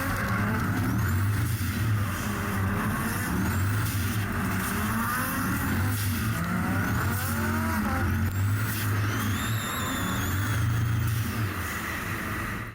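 Drift cars screaming through a run at the Australian Drifting GP, engines revving hard with rising and falling pitch sweeps, continuous loud roar throughout with no talking.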